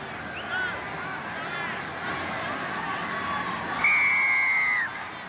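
Dense crowd noise from a packed North Sydney Oval at a 1991 rugby league match, Norths versus Wests, with a steady roar, scattered shouts and whistles, and one rising cheer swelling near the end.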